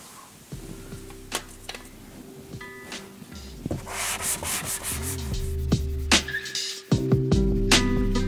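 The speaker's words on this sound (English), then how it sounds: "while I was sanding that out" An electric sander whirs and hums steadily against a painted wooden cabinet, sanding out a paint run. The grinding rasp swells and eases as it is pressed and moved.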